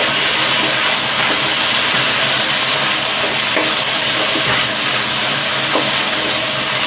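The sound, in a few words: beef and green chillies sizzling while frying in a handi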